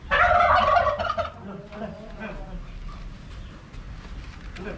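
Large turkeys gobble in a backyard pen, a loud close gobbling burst at the start that trails off into softer calls and background murmur.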